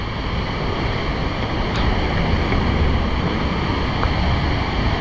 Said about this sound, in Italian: la pioggia e la cascata, è bellissima